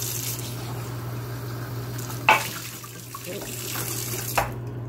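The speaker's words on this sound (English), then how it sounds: "this hasn't been used in quite some time, so I'm going to rinse it out" Tap water runs steadily into a sink to rinse out a floral mug, with a couple of brief clinks and splashes as the mug is handled nearby.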